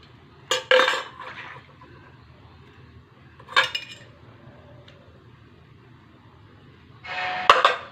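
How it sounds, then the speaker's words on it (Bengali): A ladle scrapes and clinks against a pot while scooping pulp out of boiled mangoes, three short bursts of metallic knocking spaced by quiet, close and moderately loud. "আমগুলো আমি এরকমভাবে একটা হাতা দিয়ে আমের পাল্পগুলো বের করে নেব"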